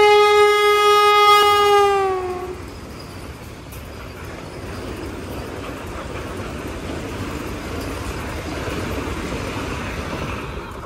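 A Vande Bharat Express blares a loud, steady two-tone horn for about two seconds, then passes as a long, continuous rumbling roar of wheels on a single-line track.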